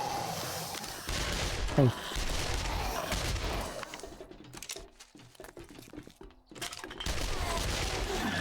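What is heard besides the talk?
SMG gunfire in the video game 7 Days to Die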